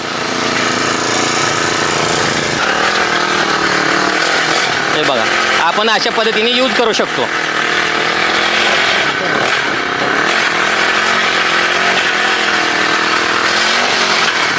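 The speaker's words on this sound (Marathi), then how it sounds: "हे आपल्याला केळीच्या मधलं गवत काढाय, डाळिंबाच्या मधलं गवत काढाय" An engine-powered weeding machine runs steadily with a loud, buzzing motor drone, its pitch rising and wavering briefly as it works, while someone talks over it throughout.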